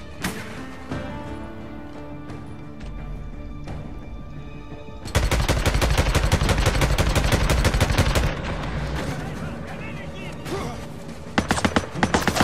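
Sniper gunfire from the post-apocalyptic open-world game Days Gone, with scattered single shots early and then a dense, loud stretch of rapid repeated gunfire over a busy game soundtrack, ending in a few sharp closing shots.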